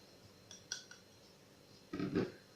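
Peanuts added to cake batter in a kitchen: a few light clinks and taps of utensils against a bowl, then a brief louder scrape and rattle, close and otherwise quiet.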